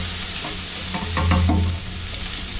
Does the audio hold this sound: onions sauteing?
yes